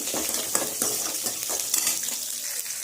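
Curry leaves and salt being mixed and sautéed in a pan for river fish curry: a moderate sizzle with repeated scraping stir strokes at an uneven rhythm, close and without voices.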